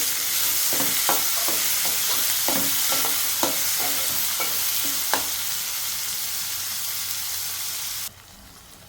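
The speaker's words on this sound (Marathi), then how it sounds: "आता ह्यामध्ये मी टोमॅटो घालते आणि टोमॅटो पण चांगला मऊ करून घेते" Tomatoes and onion frying in oil in a pan, a steady close sizzle with a series of rhythmic spoon knocks from stirring, ending in a sudden quieter hush.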